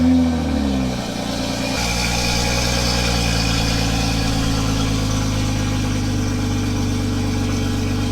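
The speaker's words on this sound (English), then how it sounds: "so let's get this semi-cold start." A Toyota MKV Supra sports car engine cranks and fires up on a semi-cold start, then settles into a steady, loud idle with a deep rumble.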